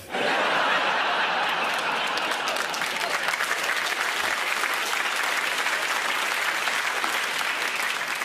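Audience at a stand-up comedy show bursts into sustained applause, dense and steady throughout, with scattered chuckles and laughter mixed in.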